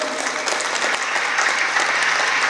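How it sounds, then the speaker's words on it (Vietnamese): Wedding guests at a Buddhist ceremony in Nam Dinh burst into sustained, dense applause, a steady wash of many hands clapping at once with no voices rising above it. "xin mời tất cả quý vị dành một tràng pháo tay thật lớn để chúc mừng"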